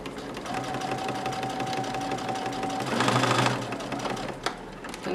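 Sewing machine stitching fabric for a wall planter, a steady close mechanical whir and rapid needle chatter that swells louder briefly before settling, alone with no talk.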